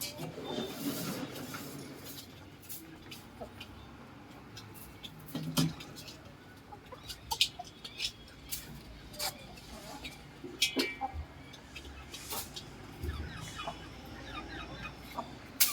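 Desi and foreign-breed chickens cluck and peck nearby at a farmhouse in short, scattered bursts, with occasional sharper calls and some low voices in the background.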